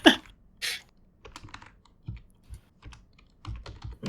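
Keys clatter on a computer keyboard in short irregular bursts of typing, moderately close, with pauses between clusters of keystrokes and no speech.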